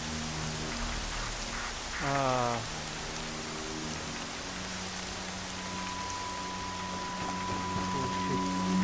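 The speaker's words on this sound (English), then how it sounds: "Here comes the rain." Steady rain falls in Horizon Zero Dawn as a constant, even hiss under low game ambience, with a few brief tonal game sounds and a short vocal exclamation.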